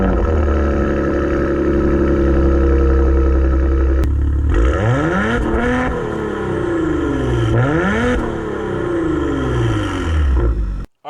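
A 2022 Maserati Levante Modena with a twin-turbo V6 idles loudly up close, then the engine revs several times, each rev rising and falling sharply before the sound cuts off abruptly.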